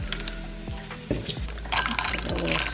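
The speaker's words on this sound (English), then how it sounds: "Pour the cold brew." Cold brew coffee poured into a glass already holding almond and oat milk hazelnut creamer, a close, continuous liquid splash and gurgle with small drips, fairly quiet.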